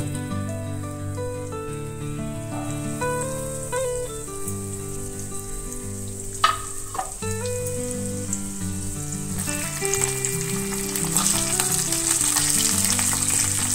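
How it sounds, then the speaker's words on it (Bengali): Mackerel pieces coated in rawa fry in a pan, giving a continuous crackling sizzle that grows denser and louder toward the end, with one or two brief clinks in the middle and no voices. "বাকি দুটো মাছ আছে, একই রকম ভাবে ভেজে নেব।"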